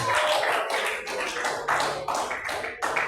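A church congregation clapping their hands loudly, a rhythmic run of collective claps pulsing about twice a second, fairly close and strong throughout.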